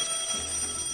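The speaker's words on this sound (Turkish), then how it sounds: "Anneannemin namaz alarmı çalıyor." Prayer-time alarm going off in a home, a continuous electronic ringing tone that holds steady and loud for the whole second without breaks or voices.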